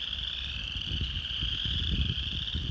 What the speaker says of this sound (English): Listen to the frogs.